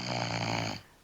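A person snoring in a room, one loud, rough, sustained snore lasting most of a second before cutting off into quiet background, heard alone and fairly close.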